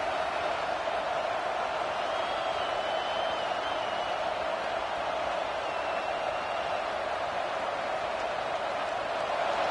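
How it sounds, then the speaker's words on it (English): A steady, dense roar of a large college football stadium crowd, continuous and fairly distant, with no distinct voices standing out. "This crowd bringing the energy and noise early."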